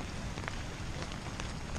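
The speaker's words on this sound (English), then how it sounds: "It's raining out here." Rain falls steadily at a pond, a dense, faint patter of drops with a few sharper ticks close by and no voices.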